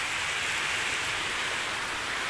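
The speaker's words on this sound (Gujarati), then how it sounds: "કેટલી ખતરનાક વરસાદ આવી ગયો તરતે જ આવી ગયો" Heavy rain pouring down at a hilltop Hanuman temple, a dense, unbroken hiss of falling water filling the scene evenly without pause.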